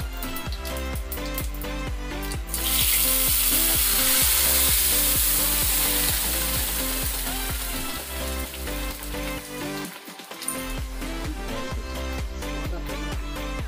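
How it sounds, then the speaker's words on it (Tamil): Lentils hit hot oil with a burst of loud sizzling that stays steady and crackly, with a brief clunk of a pan partway through. "இதில் எடுத்து வச்சுருக்க இந்த பருப்பையும் கொட்டிடுறேங்க"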